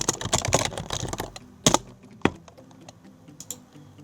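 Computer keyboard typing during a Roblox plugin setup, with a dense burst of quick keystrokes at the start, then a few sharp isolated clicks and sparse taps, fairly close and alone with no talk.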